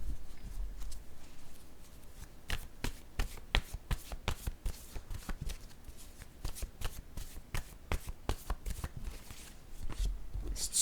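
Playing cards are shuffled by hand close up, a quick run of crisp riffling snaps and soft slides with short pauses between bursts, and no talk.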